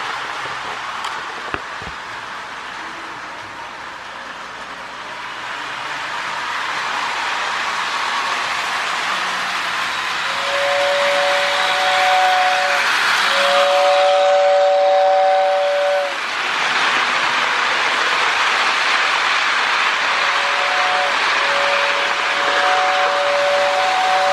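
A Lionel 2036 Adriatic model train runs steadily with a rumbling clatter while its whistle tender sounds a steam whistle in several short and longer blasts, fairly loud and close.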